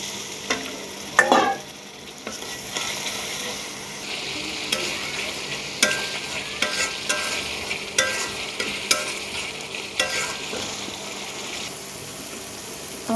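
Spice paste with added water being stirred and sautéed in a pan, a steady sizzle with repeated scraping strokes of a spoon, close and continuous, with no talking.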